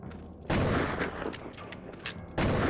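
Gunfire in the video game Outlaws: a burst of loud, close shots with booming reports opens and then returns near the end, with a short lull between them and no talking.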